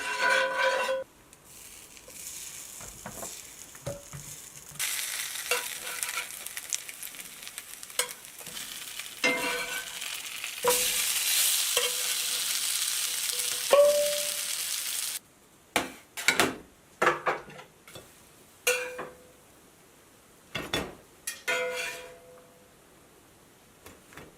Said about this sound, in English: then we're going to fry it up in some coconut oil